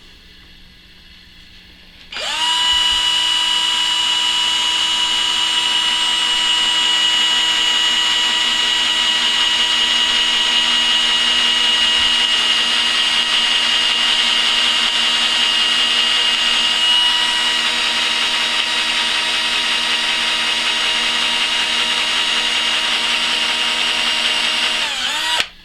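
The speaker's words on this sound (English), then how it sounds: "Really important to center punch when you're drilling on something curved." A power drill runs loud and steady for over twenty seconds while boring into a curved metal tube, starting abruptly after a quiet moment with an even, high-pitched whine and no talking.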